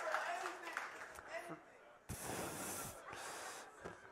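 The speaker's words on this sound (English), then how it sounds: "I get claps for just saying coin voting is terrible" A conference audience breaks into clapping after a talk on coin voting, a faint smattering followed by a fuller burst of applause that swells and then thins.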